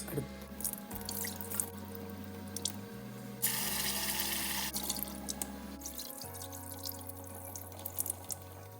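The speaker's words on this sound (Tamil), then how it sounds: "நான் 1 கப் பருப்பு எடுத்து நான் கழுவி எடுப்போம்" Washing one cup of lentils (dal) in water for a dal curry: a running tap splashes into a sink with dripping and sloshing water, moderately close, without talk.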